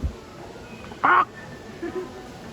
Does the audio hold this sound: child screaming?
no